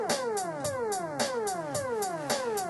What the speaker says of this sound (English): So you can hear the drum machine running in the background